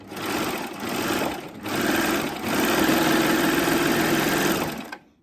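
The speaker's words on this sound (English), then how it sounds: "Just sews from one to the other very, very easily." A Babylock Acclaim sewing machine stitches through two layers of cotton sateen with interfacing on both sides, a steady close mechanical whirr running continuously for about five seconds with brief dips, then stopping abruptly.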